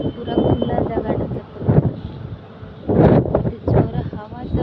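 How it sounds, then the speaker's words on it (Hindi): Strong wind buffets the microphone in an open outdoor place, coming in loud gusts of rumbling noise, with someone speaking between the bursts. "जोर हवा चलुची"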